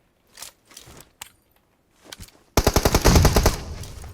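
Rapid automatic gunfire in the battle-royale game PUBG Mobile: a few scattered clicks and shots, then a loud, sustained close burst of machine-gun fire over the last second and a half.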